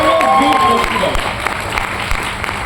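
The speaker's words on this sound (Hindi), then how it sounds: "प्लीज सर के लिए जोरदार ताली होनी चाहिए" Loud applause from an audience at a leadership development program in Vizag, clapping for the presenter, with a voice over the first second before dense clapping carries on.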